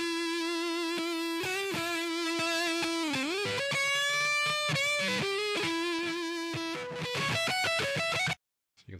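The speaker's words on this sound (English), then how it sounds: "there are many other presets here that provide all kinds of other kinds of distortion" A distorted guitar passage played through a distortion effect preset in audio software, with sustained buzzing notes and shifting bends, clear and alone until it stops abruptly near the end.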